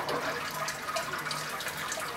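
Water pours steadily over a grain bed while sparging an amber ale in a home brew, a continuous close splashing rush with no talk.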